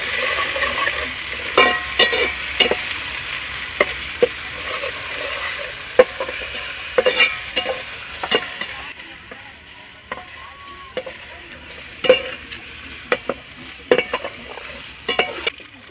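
Ginger garlic paste fries in a pan for fish curry, a constant close sizzle punctuated by repeated sharp scrapes and taps of a spatula, easing slightly in the second half.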